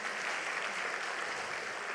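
A church congregation claps in praise at an anniversary service, a dense, steady wash of many hands that sounds soft and somewhat distant, with no speech.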